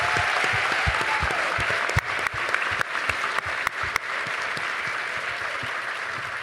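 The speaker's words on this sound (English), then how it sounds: "Let's give a big round of applause to our panelists." An audience applauds after a panel discussion at a film festival event, sustained dense clapping with a few sharper individual claps, steady and fairly loud with no talking over it.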